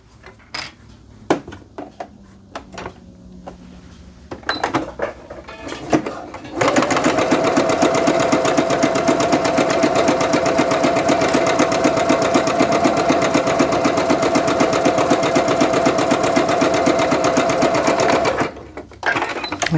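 Sewing machine stitching jogger seams at a 5/8 inch allowance: a few handling clicks and taps first, then a loud, steady, rapid needle drone for about twelve seconds that stops abruptly near the end, close and without talk.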